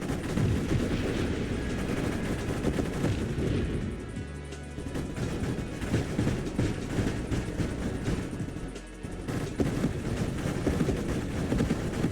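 A Void Gatler, a rapid-firing gun in a video game, firing continuously in a dense, loud, steady stream of shots with only a brief dip midway.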